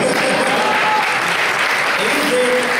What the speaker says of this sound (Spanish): que un aplauso, por favor.